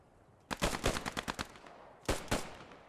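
Machine gun fire in the WWII shooter Post Scriptum: a rapid burst of loud, sharp shots, then a pause and a second shorter burst of two or three rounds, with no voices.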